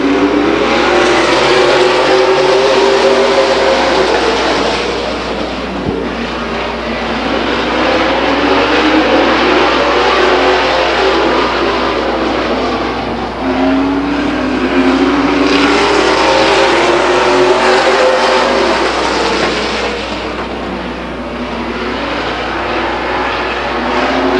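Race trucks roar around the oval at Stockton 99 Speedway, a loud continuous engine drone that swells and fades as the pack passes, with no talk over it.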